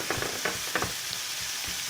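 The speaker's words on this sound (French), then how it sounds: "je vais rajouter la viande hachée. Je mélange." Minced meat sizzles in a pan while being stirred, a close, constant hiss broken by a few soft scraping strokes of the spoon, with no voices.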